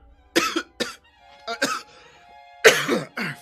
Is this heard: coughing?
yes